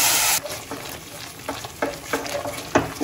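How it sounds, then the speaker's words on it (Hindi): A spoon stirs seed paste into a sizzling gravy in a pan, with a burst of frying hiss at the start and then a quick series of close scraping strokes. "इसको डाल के हमें एक जैसे हिलाना है,"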